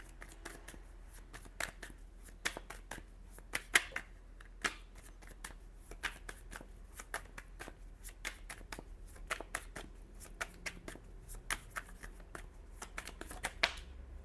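Tarot cards are shuffled by hand: a quiet, close series of quick papery riffles and taps runs steadily throughout in irregular bursts, with no talking over it.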